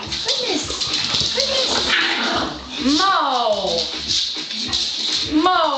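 Pet dogs at play let out high whimpers and sharp yips in repeated bursts, close and fairly loud, while someone talks to them throughout.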